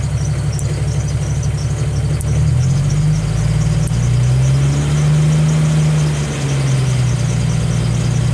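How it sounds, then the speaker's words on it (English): A Jeep Wrangler YJ engine idles steadily, then climbs in revs as a hand throttle lever is pulled, the tone rising and holding before easing back down; loud, close and continuous with no talking. "You'll hear the RPMs rise."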